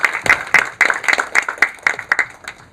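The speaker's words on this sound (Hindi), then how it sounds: "सो प्लीज़ एवरीवन तालियां south Gujarat chamber of commerce" Audience applause at a business seminar on company formation in Dubai, hosted by the South Gujarat Chamber of Commerce: a room of clapping hands swells in repeated surges, sounding close and lively, with no voices over it.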